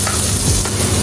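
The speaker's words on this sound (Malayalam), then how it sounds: "വെളുത്തുള്ളി ഇട്ടിട്ട് നന്നായി സോട്ട് ചെയ്യാം." Garlic sautés in hot olive oil in a pan, a steady close sizzle with a scrape of stirring, no voices over it.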